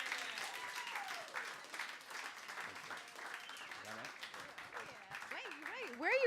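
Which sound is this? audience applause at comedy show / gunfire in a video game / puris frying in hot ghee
audience applause at comedy show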